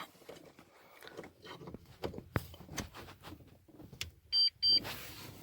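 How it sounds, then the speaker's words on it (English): Two short, clear electronic beeps from a 2008 Chevrolet Cobalt during key fob programming sound near the end, after quiet clicks and faint mechanical shuffling. "Got our 2 beeps."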